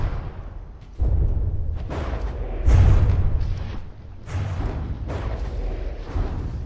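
Heavy artillery shells fire in a From the Depths naval battle, a rapid series of deep booms and rumbling blasts rolling one after another, loud and dense with overlapping impacts.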